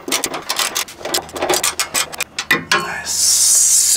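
A ratchet tightens a 12 mm bolt on the transmission and transfer case skid plate of a 2016+ third-generation Toyota Tacoma, with rapid clicking strokes in bursts, followed by a brief steady hiss.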